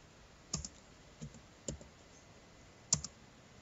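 A few separate key presses on a computer keyboard while entering a MySQL command, four soft clicks spaced out over a few seconds, close and quiet with no talk.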